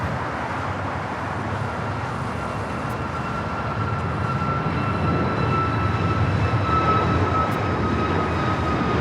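An Austrian Airlines jet being pushed back at LAX airport, its engines giving a steady loud broadband roar with a faint rising whine, heard from a distance without interruption.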